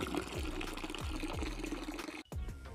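Worm juice drained from a bathtub worm bin being poured into a bokashi compost mixture: a steady close gurgling pour with faint rhythmic pulses, a brief break near the end, then the flow resumes.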